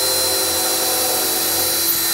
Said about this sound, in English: Setting it in and pilot drilling